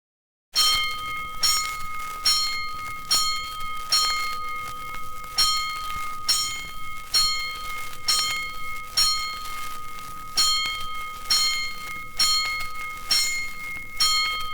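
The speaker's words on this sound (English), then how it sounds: "Five bells. Stand by all stations. Attention, all districts. A 5-alarm fire." Loud, bright bell strikes ring in a steady, evenly spaced rhythm, over a dozen in a row, with a faint steady tone beneath.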